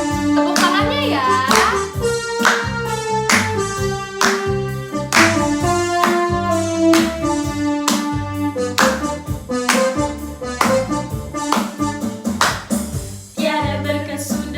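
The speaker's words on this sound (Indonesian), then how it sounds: "Tepuk tangannya ya." Children in a Sunday school class clapping their hands along to an upbeat worship song, rhythmic claps keeping time beneath loud music with instruments and singing.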